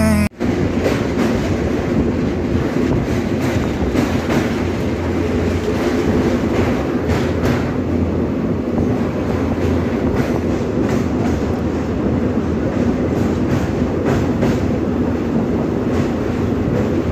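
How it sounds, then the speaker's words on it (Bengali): A train on the Santragachi–Digha special service pulls into Mecheda station, heard from on board as a loud, continuous rumble with clickety-clack of wheels over rail joints and faint squealing, sustained throughout. "ট্রেন এখন এসে পৌঁছেছে মেছেদা স্টেশনে।"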